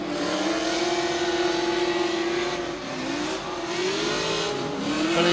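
Kingston K's drift car makes a run on a semi-dry track during a drift competition, its engine holding a loud, steady revving drone with pitch rising and falling through the slide and faint tyre noise underneath.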